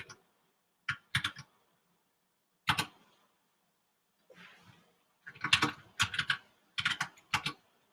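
A computer keyboard clicks out a command in short, irregular bursts of keystrokes with quiet gaps between them, close and crisp, with no talking.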